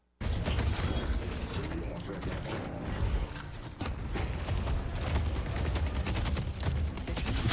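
Rapid, dense gunfire in a video game, a continuous crackling barrage of shots with mechanical clatter, loud and close, starting abruptly and running throughout.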